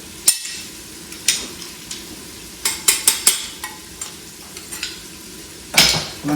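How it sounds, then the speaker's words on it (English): Chicken cacciatore being stirred in an Instant Pot, a spoon knocking and scraping against the metal insert in a string of sharp, close scrapes and clanks over a low simmering bubble. "I'm going to stir that around."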